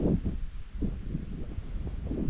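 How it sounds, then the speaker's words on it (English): Steady low rumbling buffet of wind hitting a microphone, continuous and muffled throughout, with no voices. "Wind blowing, probably killing my audio."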